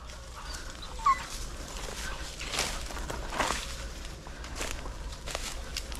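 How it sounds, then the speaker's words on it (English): Hunting dogs on a South Carolina deer hunt whimper and yip at moderate distance, with scattered rustling footsteps through brush and a faint outdoor background. "Stop the dogs."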